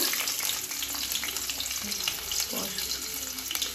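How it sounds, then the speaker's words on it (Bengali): Chopped onions hitting hot oil already tempered with nigella seeds in a pan, a loud continuous crackling sizzle with clattering stirring, close up and without speech. "এবার দিয়ে দেবো কুচিয়ে রাখা পেঁয়াজগুলোকে।"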